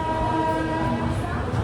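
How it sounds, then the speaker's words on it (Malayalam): Telangana Express arriving at Secunderabad railway station in light rain gives a loud, steady rumble with sustained tonal hum, close by and continuous. "ട്രെയിൻ ഇതാ തെലങ്കാനയിലെ സിക്കന്ദരാബാദ് റെയിൽവേ സ്റ്റേഷനിലേക്ക്"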